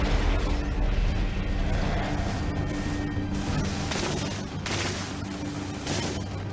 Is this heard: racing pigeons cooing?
no